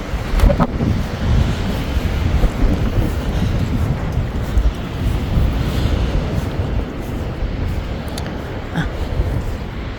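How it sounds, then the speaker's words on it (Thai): Strong wind roars and gusts steadily across the microphone outdoors, a loud, unbroken rushing that surges and eases over several seconds. "เสียงลมน่ากลัวมาก"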